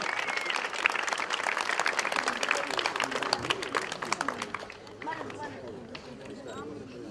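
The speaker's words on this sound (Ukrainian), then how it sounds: "Ваші оплески!" Audience applause at a football awards ceremony for the finalist teams of an international tournament, dense steady clapping mixed with crowd noise and some voices, fading slightly near the end.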